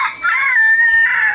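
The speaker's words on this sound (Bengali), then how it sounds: "এখানে মুরগির ডাকও ফ্রি।" A chicken calls in a village, one drawn-out, fairly loud call held for over a second, close by, with no talking.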